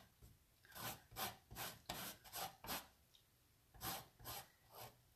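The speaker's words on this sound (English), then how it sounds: "So I'm going to zest, and be sure you don't get the white." A zester rasps across lemon peel in quick, evenly spaced strokes, about ten soft scraping sweeps in rhythmic bursts, close and quiet with no talk.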